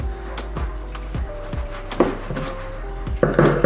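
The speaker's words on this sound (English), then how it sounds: "Stirring the dough together here." Bread dough being stirred in a bowl at home, with repeated knocks and scrapes of a utensil against the bowl in a loose, uneven rhythm, close and moderately loud.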